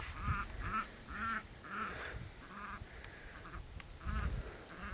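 Poultry in a backyard chicken coop give a string of rhythmic nasal honking calls, several in a row with short gaps, moderately close over a low background.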